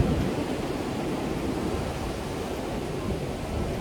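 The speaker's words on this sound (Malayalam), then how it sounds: "നല്ല കാറ്റും നല്ല തിരമാലകളുടെ സൗണ്ടാണ്" Wind and surf at Payyambalam beach on a rainy day: a steady, loud, broadband roar of wind and breaking waves, unbroken throughout with no distinct wave crashes and no voices.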